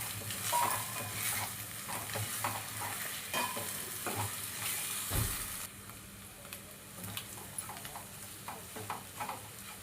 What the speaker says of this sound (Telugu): ఇప్పుడు దీన్ని మనం కొద్దిగా కలుపుకుందాం.